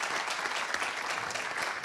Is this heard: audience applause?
yes